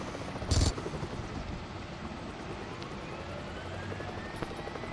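Steady rotor chop of a helicopter running continuously, with a brief sharp burst near the start and faint clicks later.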